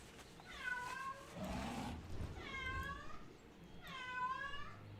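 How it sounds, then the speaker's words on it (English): A house cat meows three times, each a drawn-out, faint call spaced about a second apart, over a soft background hum with a brief quiet voice in between. "That's my cat."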